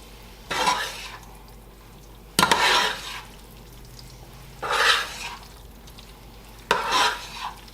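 Mushroom and bacon fusilli sauce being stirred in a pan, four separate scraping bursts of spoon against pan, each about a second long, with quiet pauses between them.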